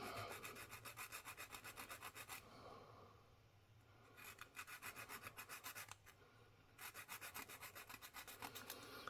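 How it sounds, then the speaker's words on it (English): A metal coin earring back is rasped with a file in rapid rhythmic strokes, three bursts of quick back-and-forth scraping with short pauses between, close and steady with no talking. "And I always file the back,"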